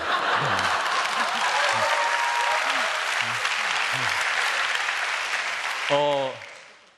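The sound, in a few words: audience applause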